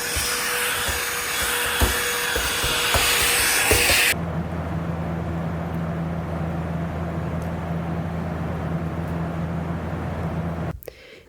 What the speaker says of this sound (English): drill through the adapter into the metal